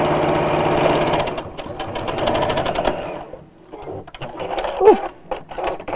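A sewing machine runs in quick, even stitching bursts, stopping and starting, with a short squeak near the end and no talk over it.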